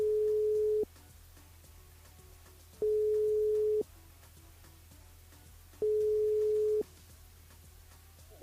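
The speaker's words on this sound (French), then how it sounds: "On appelle Lino" Telephone ringback tone as a French radio show calls a listener live on air: three steady beeps about one second long, repeating every three seconds with quiet gaps between, clear and alone.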